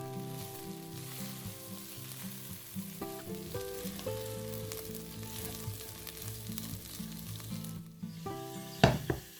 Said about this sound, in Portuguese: Agora eu vou levar para fritar, com fogo baixo.